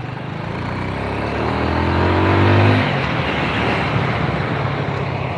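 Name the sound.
Yamaha Jupiter Z motorcycle drive chain and gear rattling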